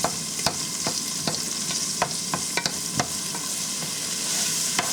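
Onions sizzling steadily in a hot pan for shrimp chop suey while a utensil pushes them apart, sharp scrapes and taps breaking through the continuous frying hiss, close and fairly loud with no voices.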